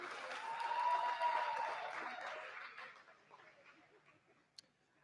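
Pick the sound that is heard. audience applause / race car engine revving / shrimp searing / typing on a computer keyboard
audience applause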